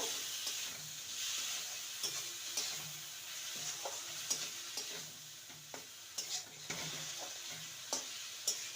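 Chopped tomato and spices fry in a pan while a spoon stirs, giving a continuous soft sizzle broken by regular scraping taps against the pan, close but fairly quiet, with no voices.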